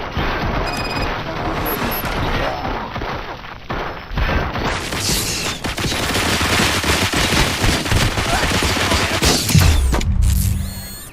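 Machine-gun fire rattles through a Robocop: Rogue City station shootout in sustained, loud automatic bursts mixed with crashes and booms, and a sharp impact lands near the end.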